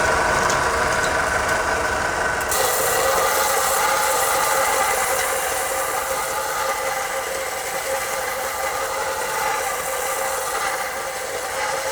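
A solid silver chess piece is sanded flat in a workshop, giving a continuous loud abrasive rasp with a steady mechanical hum that runs unbroken and changes slightly a few seconds in.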